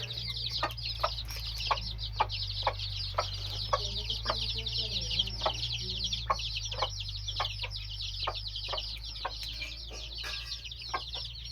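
Week-old Aseel chicks and chickens clucking and peeping in a rural coop, steady soft calls and regular short chirps over a constant low hum, with a voice speaking faintly at times.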